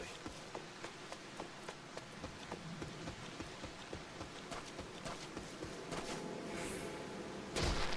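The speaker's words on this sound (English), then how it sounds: "Look at that rain." Heavy rain pours steadily in a video game landscape, a dense, even hiss with soft pattering impacts throughout, growing slightly louder toward the end, with no talking.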